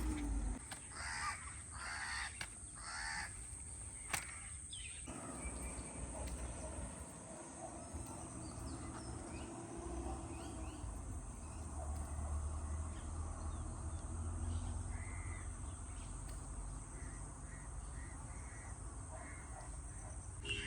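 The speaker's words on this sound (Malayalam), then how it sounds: "ഇവിടെ നമുക്ക് നാച്ചുറലായിട്ട് കിളികളുടെ ശബ്ദം കേൾക്കാം" Crows cawing and other birds calling beside a road near Bangalore, with a few sharp caws early on over a steady wash of distant passing traffic and rumble that continues throughout.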